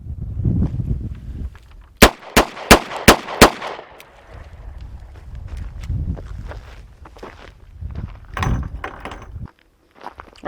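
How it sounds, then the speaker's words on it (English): A Smith & Wesson 640 J-frame revolver fires five sharp, evenly spaced shots at close range from a pocket holster draw, followed by quieter handling noises and footsteps. "I'm going to fire one more cylinder out of the 640 using the DeSantis pocket holster."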